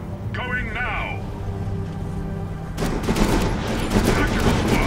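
Rapid gunfire bursts in the Dawn of War III strategy game, a dense crackling volley starting partway through and continuing loudly over a low drone and radio-style unit voices.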